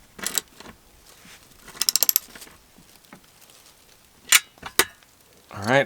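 A ratchet wrench tightens a screw with a lock washer on a solar panel mounting bracket for an SUV. It gives several short, close bursts of quick metallic clicks with pauses between them.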